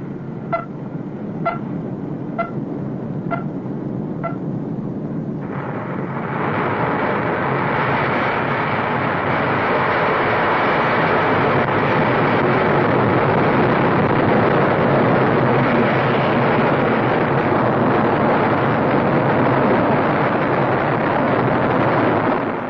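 Blue Streak ballistic missile launching and climbing under autopilot in 1964, a sustained loud broadband rocket roar that starts after a few faint beeps and holds steady to the end.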